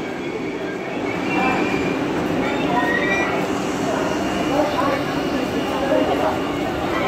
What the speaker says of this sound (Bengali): এই বন্দে ভারত ট্রেন আসলো, এখন আমরা বন্দে ভারতে উঠবো।